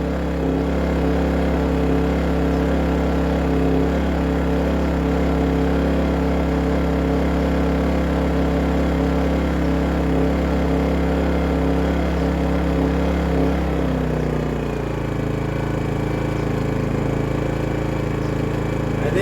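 A Dinking DK2300i-M inverter generator, a lightweight 1800-watt unit, runs steadily at idle on its first start, a loud continuous engine drone that drops in pitch and settles lower partway through.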